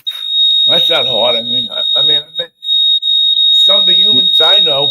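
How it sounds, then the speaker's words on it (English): A building fire alarm sounds during a test as a steady, piercing high electronic tone running throughout, beneath two people talking. "the sound of our fire alarm here in the building."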